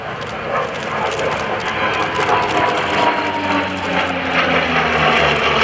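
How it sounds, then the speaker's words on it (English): An F4U Corsair warbird roars past at the Blue Angels Homecoming Airshow, its piston engine and propeller giving a loud, steady drone that swells slightly as it passes, with no talk over it. "Take a look at the bent wing bird, the F4U Corsair."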